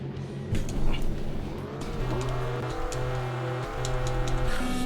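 Rally cars racing in the PS1 game Rally Cross, with steady buzzing engine drones that rise and fall in pitch as gears change, some tire noise, and no talking.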